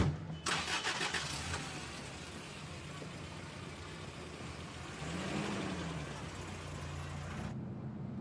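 A car engine cranks and catches at the start, then settles into a steady low idle that swells slightly partway through, heard fairly quietly and close by.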